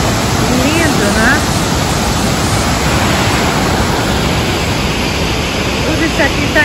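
Powerful river water rushes through Canyon Sainte-Anne in Quebec, a loud, steady, broadband roar close by that fills the whole stretch, with a voice faintly heard under it.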